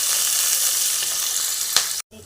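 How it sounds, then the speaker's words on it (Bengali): Pumpkin stalks and onions frying in hot oil in a pan make a loud, steady, close sizzle with a soft stir near the end before the sound cuts off abruptly. "একটু কুমড়োর ডাঁটাটাও ভেজে নিচ্ছি আমরা"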